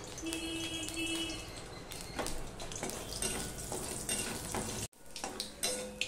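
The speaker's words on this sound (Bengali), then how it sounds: "এবারে দেখো নিয়ে নিয়েছি পাঁচফোড়ন, পাঁচফোড়নটা আমি দিয়ে দিলাম" Panch phoron spices crackle and sizzle in hot mustard oil, a steady dense frying hiss with occasional utensil clinks and a brief dropout partway through, and no one speaking.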